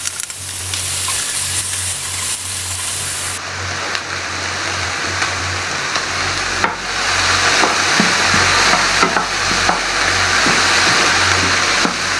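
Food cooks in a pan on a burner at full heat, giving a loud, continuous hissing sizzle that swells partway through and holds steady, with no talking.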